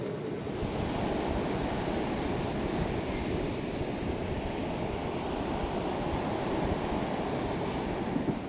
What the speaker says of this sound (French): Waouh, il fait trop de vent